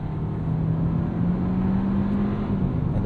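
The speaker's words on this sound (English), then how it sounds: "Ooh, aggressive downshift." A 2024 Hyundai Kona N-Line engine drones steadily from inside the cabin through a paddle-shift downshift, a low, continuous hum with a slight rise in pitch.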